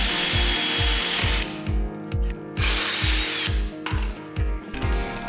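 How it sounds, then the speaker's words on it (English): Power drill boring holes for 1/4 inch bolts through a metal frame, loud and close, with a steady rhythmic pulsing drone broken by short pauses as the bit bites and is eased off, and no voices. "drilling some holes for some 1/4 inch bolts, drilling through the frame"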